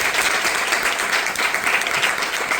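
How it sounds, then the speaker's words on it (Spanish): Audience at a book presentation during a science fiction festival claps in a dense, sustained burst, many hands close together at an even level throughout. "Un gran aplauso para esto."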